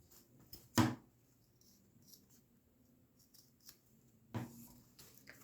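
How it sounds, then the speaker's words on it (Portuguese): Scissors snip away excess fabric while sewing a phone-holder wallet, two crisp, close cuts about three and a half seconds apart, separated by quiet handling rustle. "agora a gente pode cortar esse excesso aqui de material"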